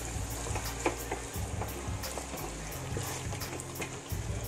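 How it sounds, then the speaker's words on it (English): Jamaican beef stew being stirred in a pot makes a steady bubbling, thick simmer with soft scraping and occasional spoon taps, close and continuous with no voices. "Stir it. We got to stir it for 2 minutes."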